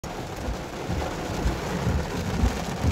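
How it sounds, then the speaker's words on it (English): Heavy rainstorm with thunder in Orlando, Florida: a dense, steady roar of pouring rain with deep rumbling thunder rolling underneath, loud and continuous throughout with no voices. "It's been thundering, it's been lightning, and this is probably one of the worst like rainstorms I've ever seen."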